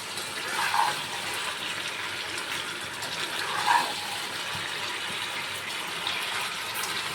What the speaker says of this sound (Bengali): তেল ছেড়ে দিয়েছে, এবার জলটা দেবো সামান্য